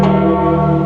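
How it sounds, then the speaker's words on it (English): Bells of St. Peter's at the Vatican ringing for the papal conclave, a dense, sustained peal of loud, rich tolling tones with no talk over them. "Ringing the bells of St. Peter's is a very appropriate innovation."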